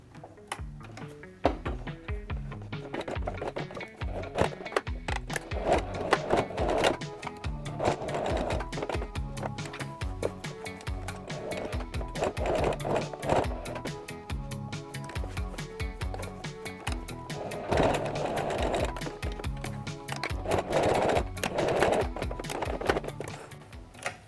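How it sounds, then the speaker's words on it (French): A sewing machine stitches fabric for boxer shorts in a long continuous run of fast, even clattering, close and steady with only slight variations in speed. "Donc je viens coudre sur ma première ligne ici, contour, au bord et au bord."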